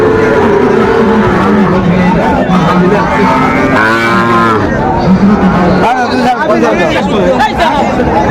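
Sahiwal cattle at a crowded cattle market, one loud drawn-out moo rising close by in the middle, heard under constant haggling voices and chatter.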